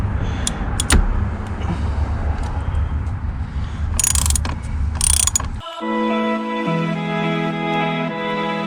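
A ratchet with a 19mm socket clicks rapidly while a bolt is snugged during an indicator stalk replacement on a 2005–2014 Peugeot 107, Toyota Aygo or Citroen C1, followed by a steady tonal hum; close and clear, no talking.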